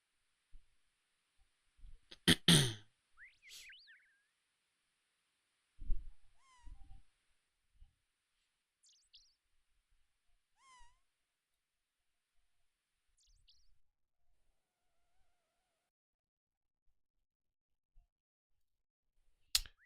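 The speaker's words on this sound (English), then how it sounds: "looking for the cat in one of these crates" A kitten found in a crate in a lumberyard in Old School RuneScape gives a few short meows, separated by long quiet gaps, with a loud burst of sound near the start.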